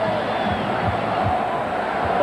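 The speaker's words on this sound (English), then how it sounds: "The crowd detecting the possibility of a run by the Bulls" Arena crowd at the 1992 NBA Finals Game 6 between the Bulls and Portland Trail Blazers, a steady roar of cheering and murmuring voices filling the space, sustained and even throughout.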